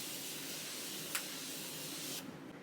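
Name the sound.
Morphe Continuous Prep and Mist setting spray being sprayed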